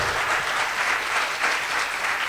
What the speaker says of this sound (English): Let's give a big round of applause to Hot Rod and Arcee